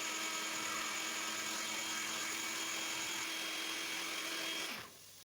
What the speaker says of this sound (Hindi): इन सबको ग्राइंड कर लेंगे अच्छे से।